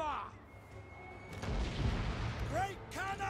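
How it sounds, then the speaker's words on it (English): A great cannon fires in the Total War: Warhammer 2 battle game, a deep rumbling boom in the middle of the clip that rolls off into battle noise. A commander's voice barks briefly around the blast. "Great cannon!"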